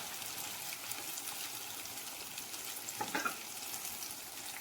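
Gravy for an egg dish poured into a hot pan, a steady loud sizzle and hiss running throughout, with a brief clink of a utensil partway through and no talking.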